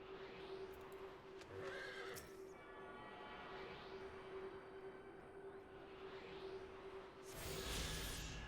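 A horse whinnies twice in the video game Final Fantasy XIV: Endwalker, faint and distant, once early and again at the end, over a steady low hum and background rumble.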